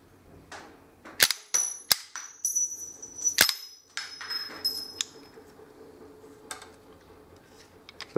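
Auto Mag rubber band gun firing, a series of sharp plastic snaps and clicks as the released rotor lets bands go, several close, loud cracks in irregular rhythm, then softer mechanical rattling, with no talk.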